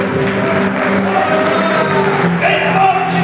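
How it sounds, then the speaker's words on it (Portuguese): A church congregation applauds and cheers, a dense steady wash of clapping with voices and shouts mixed in throughout. "Dê uma salva de palmas para a glória de Deus esta noite"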